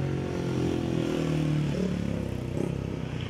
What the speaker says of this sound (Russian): На дроме снова слышны звуки двигателей и запах моторного масла